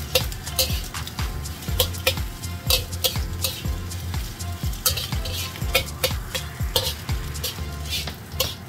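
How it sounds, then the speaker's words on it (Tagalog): Egg is stirred into fried rice with luncheon meat in a hot pan, rapid rhythmic spatula scrapes and metallic clanks over a steady sizzle, close and fairly loud throughout. "Tapos, sa gitna, ibuhos ko na yung itlog. Tapos, i-mix ko ulit sa rice."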